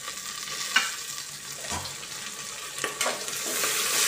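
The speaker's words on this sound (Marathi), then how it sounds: "मिरच्या टाकून घेते. टमाटर टाकून घेते." Green chillies and tomatoes fry in hot oil in a pan for rice khichdi, a soft steady sizzle broken by a few clinks and stirring scrapes, close by and alone.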